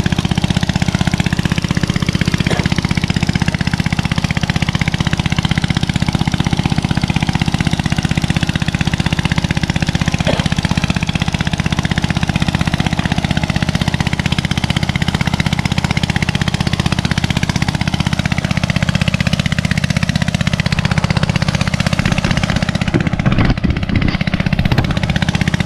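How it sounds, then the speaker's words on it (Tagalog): A loud engine runs steadily and close by, a constant heavy rumble that barely changes, with a brief rattling disturbance near the end. "malakas ang makina"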